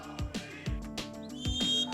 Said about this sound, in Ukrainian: Стартовий свисток, і ми їдемо, друзі.